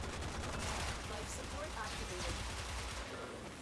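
Akstiletto pistols firing in the video game Warframe: a dense, continuous stream of rapid gunfire with loud bursts throughout, under someone talking.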